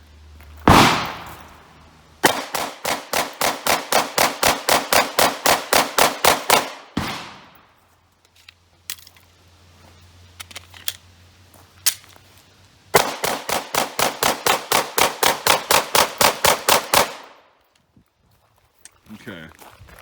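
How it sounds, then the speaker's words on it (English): A brand-new Glock Model 45 handgun fired at a range from about 10 to 11 yards: two long strings of rapid, evenly spaced loud shots, roughly twenty each, separated by a quieter gap with faint background noise. "we'll just do some more familiarization fire because, of course, you got to break in the handgun"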